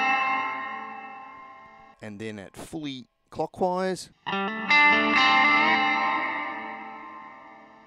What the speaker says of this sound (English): The diffuse control adjusts the spread of the reverb, sharper with more attack at counterclockwise, more ambient and washy as you turn it clockwise